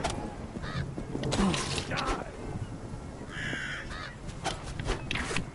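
Ravens in the Vikings: Wolves of Midgard video game give several harsh caws, spaced irregularly over game effects and background noise, with no clear speech.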